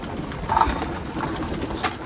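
Pigeons coo inside a loft, a soft low murmuring of several birds blending together with a brief brighter call, steady and close throughout.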